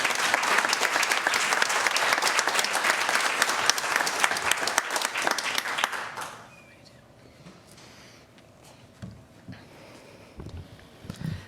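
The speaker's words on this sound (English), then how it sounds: "Let's give all our honorees one more round of applause" An audience at a human rights awards breakfast gives its honorees a loud round of applause for about six seconds, then the clapping stops abruptly, leaving quiet room noise with a few faint stray sounds.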